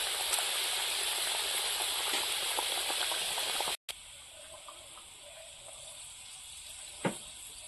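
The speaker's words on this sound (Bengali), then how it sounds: "ঝোল ফুটে উঠেছে" Vegetarian taro curry broth boils in a pot with a steady, loud bubbling hiss, briefly cut off midway, then resuming more softly with an occasional clink.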